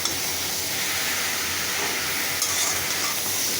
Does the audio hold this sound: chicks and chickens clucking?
no